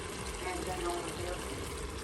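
Italian pasta sauce being poured into an Instant Pot, a steady wet, splashy pour running throughout at moderate level.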